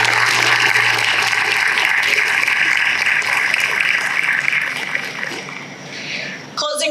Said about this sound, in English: let's get a round of applause for everybody tonight.